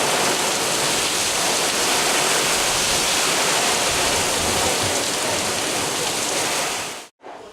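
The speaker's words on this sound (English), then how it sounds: "and we got some rain going on." Heavy rain falls in Miami after Hurricane Irma as a dense, steady hiss of downpour close by that stops abruptly at the end, with no voices.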